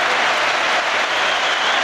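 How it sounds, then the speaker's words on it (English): Football crowd applauding a hat-trick goal at a Premier League match between Manchester United and Newcastle United, a loud unbroken roar of clapping and crowd noise filling the stadium at steady strength. "Even the Newcastle fans are applauding that one."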